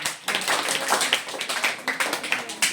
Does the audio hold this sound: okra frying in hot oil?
no